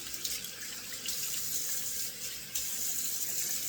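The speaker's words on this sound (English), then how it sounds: "now 2 splashes to wash it back off again" Water runs and splashes in a sink as a face is rinsed off after shaving, a continuous close gush with slight surges in the flow.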